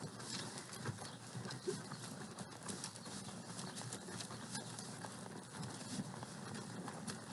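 Horses' hooves clip-clop in a riding arena as riders move in single file, steady and moderately near under continuous ambient noise and occasional birdsong, with an instructor's voice faint in the background.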